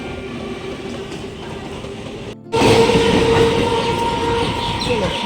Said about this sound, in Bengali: হেভি গেল ট্রেনটা চলে গেল